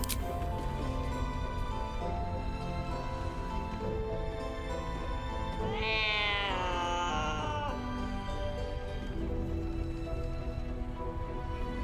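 A cat in Baldur's Gate 3 lets out a single drawn-out, rising meow midway through, heard over steady game ambience and music.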